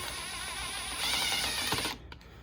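A wrench turning the bolt inside a rear brake caliper piston on a Mercedes GLA 250 with an electric parking brake, a close steady ratcheting whir for about two seconds that stops abruptly.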